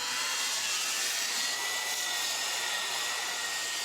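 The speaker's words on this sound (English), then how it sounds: "have our hands full with sanding it down to bare metal" Power sanding on the body of a De Tomaso Pantera being stripped of several old paint jobs down to bare metal in a car shop, a steady, loud, hissing whir that runs without a break and without talk.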